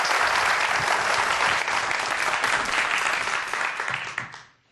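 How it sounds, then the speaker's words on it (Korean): A studio audience applauds to welcome a snack franchise CEO to the stage, loud dense clapping that holds steady and then fades out at the end. "여러분들 박수 부탁드립니다."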